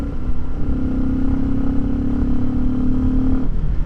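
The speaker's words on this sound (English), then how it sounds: "So do you hear any engine noise?" A motorcycle engine hums loud and close under a constant roar of riding noise, holding one steady droning pitch for about three seconds.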